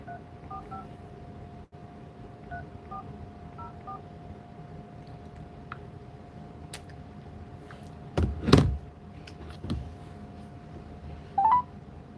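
Phone dialing tones sound as a call is placed, a few short tonal beeps spread over a quiet background with a louder burst near the end, no voices heard.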